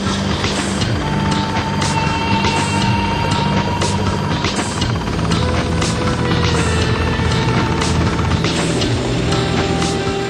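Loud, steady helicopter roar with whirring rotor noise and a high engine whine, continuous and close throughout.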